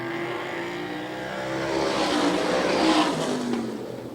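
Several super modified race cars on an oval track accelerate hard together after a green-flag restart, a dense, continuous engine roar that swells over a few seconds with rising pitch.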